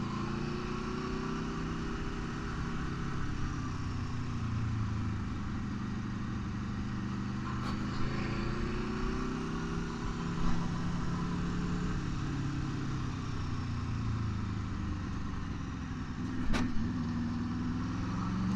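An Aprilia RSV4 Factory 1100 sport motorcycle rides along a beach road in Malibu, its engine holding a steady, moderate drone with slowly rising and falling pitch through the whole stretch, alone with no talking.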